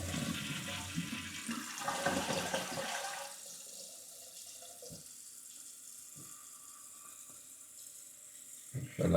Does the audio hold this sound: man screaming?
no